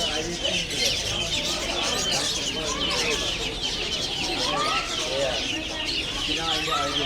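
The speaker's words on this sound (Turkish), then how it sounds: "Altta civcivler var." Dense, constant high chirping from many chicks at a live animal market on an old Istanbul street, steady throughout, with people talking nearby beneath the birds.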